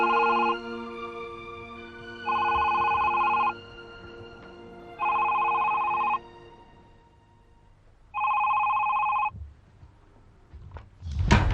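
A landline telephone rings in a domestic interior, four long bursts of a bright electronic bell with pauses between, followed by a thump at the end.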